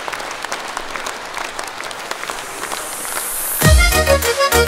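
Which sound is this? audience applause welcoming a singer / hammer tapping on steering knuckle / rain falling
audience applause welcoming a singer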